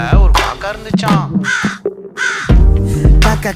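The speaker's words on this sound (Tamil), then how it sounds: "ஊர்ல ஒரு காக்கா இருந்துச்சான்." Loud, close crow cawing comes in several harsh, rough calls in an uneven rhythm, with short pauses between the bursts.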